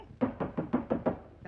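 Knuckles rap on a wooden door in a steady run of six firm, evenly spaced knocks, close and loud, in a 1957 Hindi film scene.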